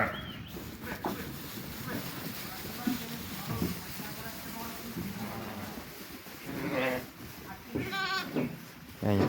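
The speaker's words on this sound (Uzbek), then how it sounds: "qo'ylar kelyapti." Sheep bleat repeatedly in a livestock pen as the flock is driven inside, several calls overlapping amid shuffling and a person's voice nearby.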